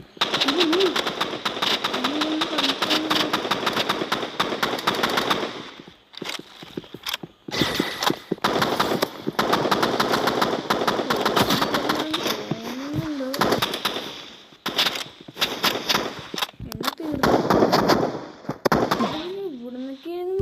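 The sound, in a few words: gunfire in the Roblox game Rivals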